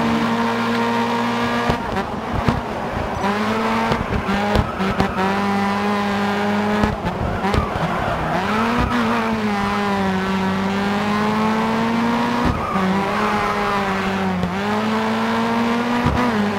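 Race cars on the final lap in GRID Autosport give a loud, sustained engine whine that rises and falls through gear changes, with brief tire squeals and a second car's engine layered close.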